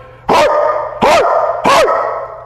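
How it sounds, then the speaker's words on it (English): A dog barks three times, loud and close, in an evenly spaced series of sharp, full barks with short pauses between them. "Stop barking."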